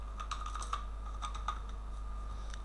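Computer keyboard typing in a code editor while writing HTML, light clustered key clicks in short bursts with pauses between, close and fairly quiet over a low steady hum.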